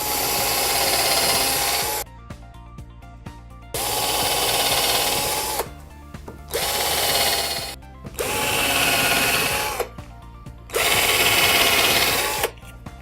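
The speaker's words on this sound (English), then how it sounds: "I'm just going to drill some pilot holes in here" A power drill bores pilot holes into pallet wood for a bookshelf, with five loud, steady whirring bursts of a couple of seconds each. Each burst is separated by short pauses of quieter clicking and handling sounds.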